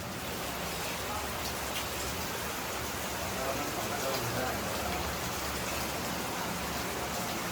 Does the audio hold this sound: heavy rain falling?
yes